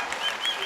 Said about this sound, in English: if you can hear the crowd here in the middle mat